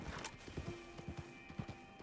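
Horse hooves clip-clop in a quick, irregular rhythm in the video game Red Dead, joined by a short whinny near the start; the game sound is fairly quiet and close.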